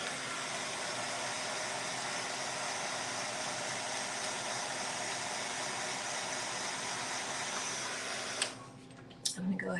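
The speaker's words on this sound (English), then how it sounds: "it's going to need a little bit of the drying tool" A craft heat drying tool runs steadily as a loud, even broadband whoosh that continues unbroken for most of the stretch, then cuts off near the end, leaving a few faint knocks.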